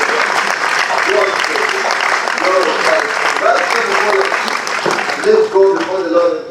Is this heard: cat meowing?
no